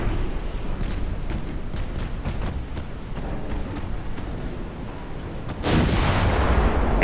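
Naval artillery from a battleship in a video game: a steady roar of rumbling gunfire and distant booms runs throughout, then swells abruptly into a louder, denser blast near the end.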